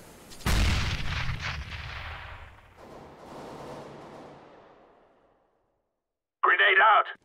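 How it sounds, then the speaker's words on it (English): A grenade blast in CS:GO booms loud and near with a long rumbling decay and scattered crackle, followed after a pause by a short burst of radio-style voice chatter. "Throwing a grenade."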